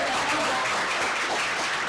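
An audience at the closing ceremony of a 2025 summit applauds Michaëlle Jean, a dense, steady wash of clapping that fills the hall without a break.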